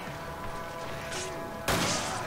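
Gunfire from the video game Resident Evil 5 erupts in a loud, dense burst near the end, following a stretch of busy game background noise.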